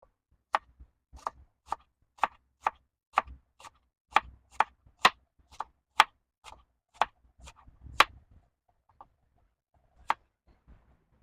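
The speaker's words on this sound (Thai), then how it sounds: "ส่วนหัวหอมนะคะ เราก็จะหั่นสไลด์ค่ะเป็นบางๆค่ะ" A steady run of sharp knife taps on a board as an onion is sliced thinly, evenly spaced slices at a brisk rhythm, slowing and thinning out toward the end.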